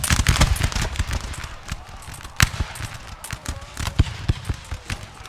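Musket volleys in the Napoleon Total War video game, with ragged crackling bursts of many shots and sharp single reports scattered through the stretch at moderate distance, under battle din.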